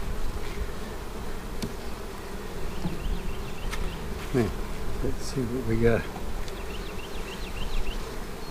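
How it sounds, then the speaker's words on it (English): Honey bees hum continuously around an open hive during a hot-weather inspection in a new bee yard, with someone speaking briefly near the start and light clicks of equipment. "Looks like a pretty good bit of bees working this side."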